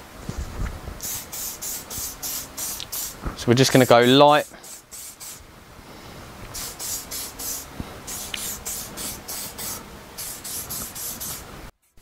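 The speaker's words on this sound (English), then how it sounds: "Let's start by giving this a good spray." Rapid bursts of hissing spray from an aerosol can of lacquer repeat in quick rhythmic pulses, with a brief rubbing scrape midway and a voice speaking briefly.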